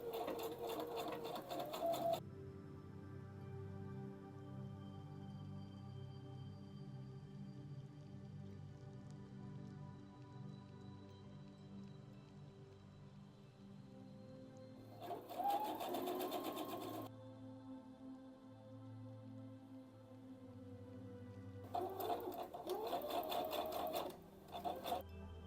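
Domestic sewing machine stitching around the outline of Christmas stocking pieces placed right sides together, running in three bursts: a long steady hum at the start, a short run mid-clip and a final stretch, with quiet pauses between, close and clear.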